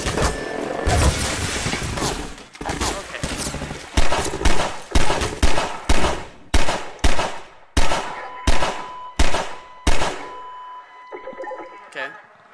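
Pistol gunfire in the Half-Life 2 VR mod, a steady run of about a dozen sharp, close shots at a regular pace over loud battle noise, followed by a quieter tail.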